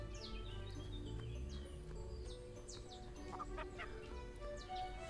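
Video game chickens clucking in a henhouse in Everdream Valley, scattered short chirpy calls over a steady game ambience.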